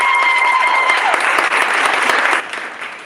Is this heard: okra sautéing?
no